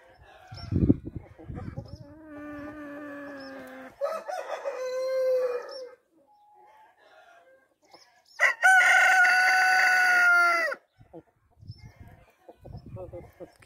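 Close Light Brahma roosters crow in long drawn-out calls, one after another, with short clucks and rustling between them.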